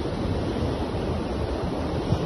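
Sea surf rolling onto the beach at Rosarito, Baja California, a steady broadband wash of waves with wind rumble on the microphone, continuous and fairly loud with no distinct breaks.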